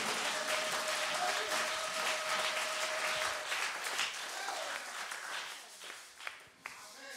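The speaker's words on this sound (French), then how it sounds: "Acclamons un peu pour ce Dieu-là." A church congregation applauds in a sustained wash of clapping that fades gradually toward the end, with a few scattered claps and some voices mixed in.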